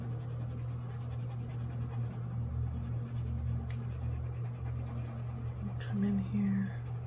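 Watercolor pencils scratch across paper while coloring, a soft continuous scribbling texture over a low hum, with a brief faint voice near the end.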